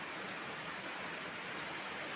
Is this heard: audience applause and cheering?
no